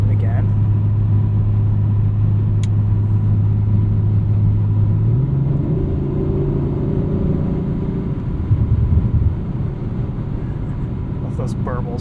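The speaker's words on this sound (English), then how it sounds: "Love those burbles from the exhaust." A 2023 Audi RS5 Competition coupe with an 8-speed automatic drives along, its exhaust giving a steady loud rumble that shifts tone midway and breaks into burbling pops near the end.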